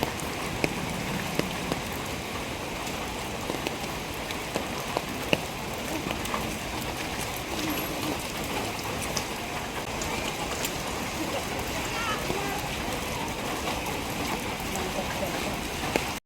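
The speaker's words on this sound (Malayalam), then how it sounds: "അതേ ഇപ്പോഴും മഴ പെയ്തുകൊണ്ടിരിക്കുന്നുണ്ട് കേട്ടോ." Steady rain falls at Athirappilly waterfall in Kerala, a dense, even hiss of drops sustained throughout without pause, with no voices standing out above the wash of water.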